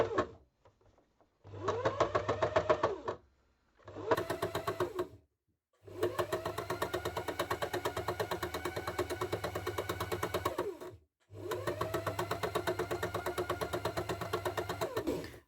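A needle-felting machine punches felt onto fabric in several bursts of rapid, even mechanical chatter separated by short pauses, close and fairly quiet with no talk.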